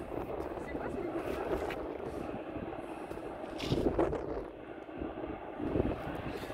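An Airbus jet airliner's engines give off a steady, distant roar at an airport that swells a little at times, with faint voices murmuring underneath.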